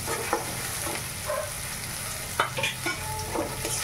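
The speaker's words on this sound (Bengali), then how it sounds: "একটু নুন হলুদ দিয়ে ভেজে নিলাম" Boiled potatoes seasoned with salt and turmeric frying in a pan, a steady close sizzle broken by scraping stirs and a few clinks of the utensil.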